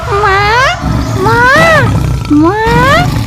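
A mother elephant in a cartoon story gives three drawn-out, rising and falling calls, loud and close. They sound like voiced, roar-like cries from an animated character.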